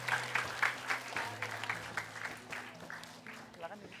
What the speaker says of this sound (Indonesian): Sekali lagi tepuk tangan untuk Ibu Erna.